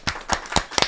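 Four sharp hand claps in a steady, slow rhythm, close and distinct, each a short crisp burst.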